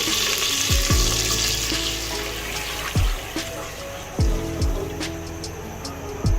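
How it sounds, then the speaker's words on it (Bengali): Water is poured into hot oil in a pot while cooking biryani rice, giving a rushing splash and fizz with a few sharp knocks and clatters of utensils. "এখন আমি এটার মধ্যে পানি দিব"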